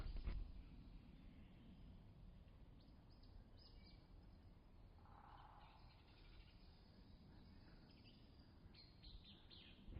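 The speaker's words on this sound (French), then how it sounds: "on entend tous les oiseaux qui sont en train de prévenir les autres de ma présence" Faint bird chirps, alarm calls, scattered through quiet woodland ambience on a hiking trail, distant and sparse.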